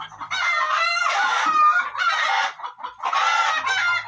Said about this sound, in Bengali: মুরগিগুলো খাচ্ছে